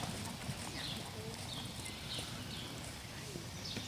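Faint hooves of a horse walking in a dressage riding lesson, a soft steady clip-clop rhythm set back under a noisy background, with brief distant sounds but no clear talk.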